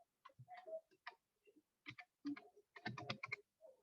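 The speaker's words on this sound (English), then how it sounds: "I'm typing here" Computer keyboard typing on a C++ programming tutorial: several short bursts of close, crisp key clicks separated by brief pauses, with no talking.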